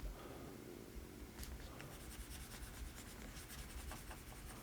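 Eraser rubbing across a board to wipe off a diagram during a geodesy lecture on the ellipsoid, a soft continuous scrubbing with faint rhythmic strokes, close and fairly quiet, no talk.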